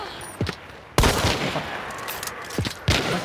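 Gunfire in the video game Hunt: Showdown cracks out in several loud, sharp reports, a couple of quicker shots early and a heavy blast near the one-second mark, then two more spaced shots near the end.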